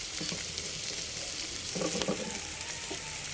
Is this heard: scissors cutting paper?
no